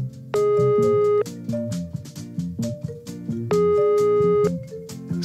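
A rotary telephone's ringing tone sounds in the earpiece as two long, even beeps separated by a pause, loud and close, with soft musical notes underneath.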